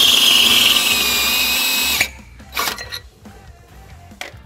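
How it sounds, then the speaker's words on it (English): Power drill boring out the rear hole of a hitch canister to 7/16 inch during a trailer hitch install on a 2013 Hyundai Elantra GT, a loud steady whine for two seconds, then stopping, followed by faint clinks and handling noises. "now we're going to enlarge the rear hole in our canister to 7/16"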